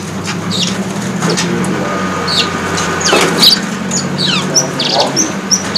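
Several trotol cacat cungko magpie robins, kept at a bird seller's place, sing close by in repeated bright chirps, whistles and squeaky calls over a steady background murmur.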